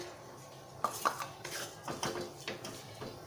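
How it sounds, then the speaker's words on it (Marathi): Grated coconut being dry-roasted in a pan for karanji filling, heard as a series of light metallic scrapes and clinks of a spoon against the pan, irregular and close, with no voices. "आता आपण खोबरं भाजून घेऊयात"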